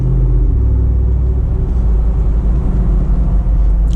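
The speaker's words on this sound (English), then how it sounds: "You're getting that road noise from those tires." A steady low rumble and droning hum fills a Jeep Wrangler Unlimited 392 Hemi cabin at speed, the constant roar of tires rolling on the road with no talking.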